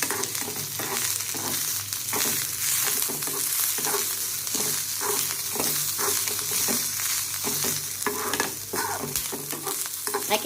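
Spices and ingredients for bitter gourd chutney roasting in a little oil, a loud continuous crackling sizzle with steady stirring scrapes throughout, close and alone without talk.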